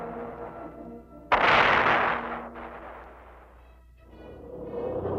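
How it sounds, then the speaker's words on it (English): Artillery units of the 4th Armored Division firing: one sudden loud blast with a long rumbling roll that fades over several seconds, over a steady low mechanical hum, followed by further distant rumbling. "these artillery units deliver their fire right on the button"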